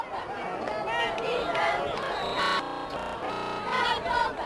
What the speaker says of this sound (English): you can hear they go right out of the crowd here at the stadium on the interception by Cody Sullivan